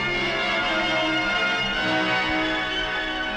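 A steady, sustained bell-like chime tone from a projected show's sound system rings alone with no talking, holding even and fairly loud across the whole span.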